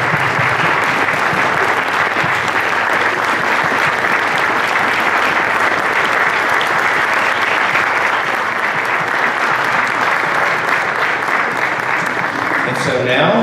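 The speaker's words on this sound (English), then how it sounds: "Let's applaud them." Concert audience of a symphony orchestra in Godfrey, Illinois, standing to applaud: a dense, sustained roar of clapping that stays loud and even for about thirteen seconds before stopping.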